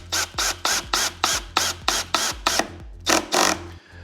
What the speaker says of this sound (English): Okay, I'm gonna put in the screws